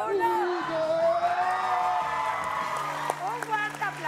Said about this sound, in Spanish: Un fuerte aplauso para Mauricio Mancera